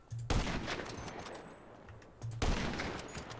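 Sniper gunfire in a PUBG-style mode of GTA 5, two loud sharp shots about two seconds apart, each followed by a long rumbling echo.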